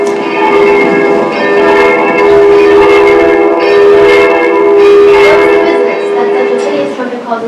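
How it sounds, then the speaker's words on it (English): An alarm bell rings steadily and loudly during a stage performance of Macbeth, its bright ringing tone sustained for several seconds without a break. "ring the bell."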